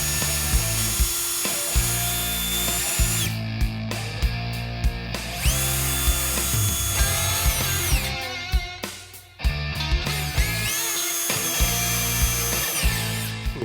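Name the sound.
drill pre-drilling holes in drywall for TV wall mount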